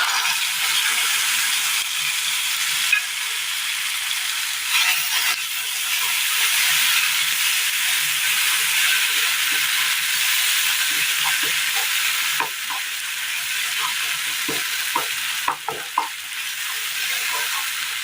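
Curry leaves and a ground spice paste frying in a pan for a Kerala dish, giving a steady loud sizzle and hiss throughout with occasional stirring clicks and scrapes.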